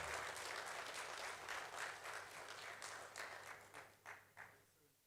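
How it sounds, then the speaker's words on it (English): Applause from the audience at an investment and real estate summit in 2023, a steady, dense round of clapping that thins toward the end into a few scattered claps. "A round of applause for Ankur, please."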